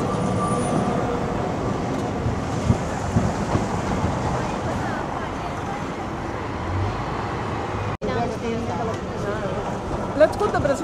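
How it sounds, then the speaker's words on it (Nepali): An old tram rumbling along a street in Lisbon, Portugal, a steady close mechanical roar with traffic noise, a few sharp clanks and an abrupt cut near the end, with people talking over it. "रेल आयो गाइस, रेलगाडी"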